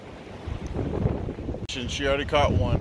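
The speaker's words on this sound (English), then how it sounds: "Yeah, really windy" Strong gusts roar against the microphone at a shoreline during night fishing, a dense rumbling buffet that rises and falls throughout while a person talks over it.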